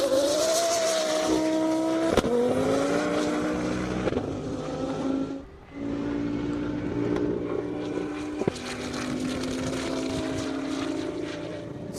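Lamborghini Gallardo SL race car at a half-mile airstrip event, its engine roaring steadily and loudly as it accelerates through the gears with shifts, close and continuous with no talk.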